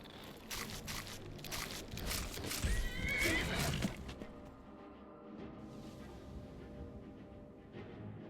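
A horse whinnies loudly over a few seconds amid thuds and scuffling as it fights mud crabs in Skyrim, then the scene settles into a quieter ambient hum.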